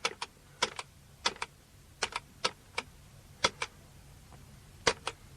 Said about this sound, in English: punch the number out on this keyboard